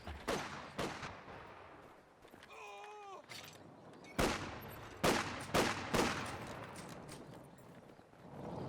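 Machine gun and rifle fire in Company of Heroes 2 during a 2v2 battle, with scattered sharp bursts and single cracks spread across the stretch, some louder and nearer, some fainter, and a brief whistling tone in between.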